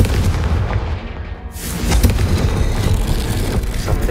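A fiery Confringo spell explodes in the video game Hogwarts Legacy, a loud booming blast followed by a rumbling, crackling roar, close and with no talking.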